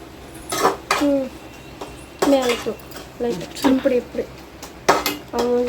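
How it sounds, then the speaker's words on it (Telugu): A metal spoon clinks and scrapes against a pot as chilli powder is stirred into egg curry, coming in short, irregular bursts amid talking. "కారం వేసుకున్నాం కదా, దీన్ని మిక్స్ చేసుకుందాం."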